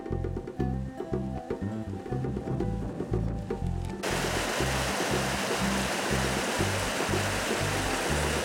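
A river stream flows steadily along a hiking route near an aqueduct at Campillo de Deleitosa, a constant broadband rush of water that grows denser and louder midway through, with background sounds mixed in at first.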